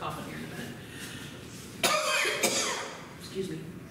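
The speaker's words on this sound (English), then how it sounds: "I'm going to start coughing here in a minute" A single harsh cough bursts out close by, followed by a second rougher one, between stretches of quiet talking.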